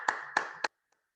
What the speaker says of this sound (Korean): 우리 모든 영광 하나님께 박수를 올려드리도록 하겠습니다.